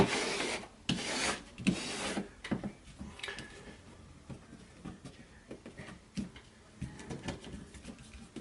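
Folded paper being smoothed flat with an origami bone folder, giving soft close rubbing and rasping strokes in bursts, loudest at the start and fading to lighter scrapes.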